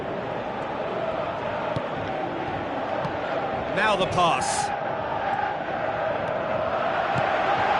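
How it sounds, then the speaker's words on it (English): A stadium crowd in a PS4 football video game keeps up a constant dense roar throughout, swelling briefly midway, under a commentator's voice. "Crowd appreciates good football all round there"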